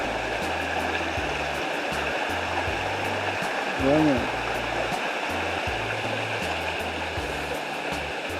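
The Land Settlement River flows with a constant broad rushing wash of water, steady and fairly close, while someone briefly speaks over it near the middle.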